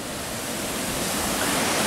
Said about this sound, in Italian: il corso d'acqua è in piena, vedete come gira